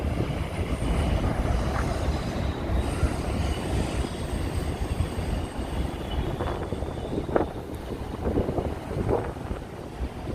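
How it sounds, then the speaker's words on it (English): An elevated subway train in Queens, New York rumbles past, a continuous loud rolling clatter with metallic squeals and wind buffeting the microphone. "that's the elevated subway"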